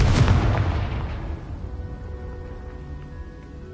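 Confringo fire blast spell from Hogwarts Legacy lands as one loud booming burst at the start, then its rumble decays into a long fading tail over a few seconds, with no voices.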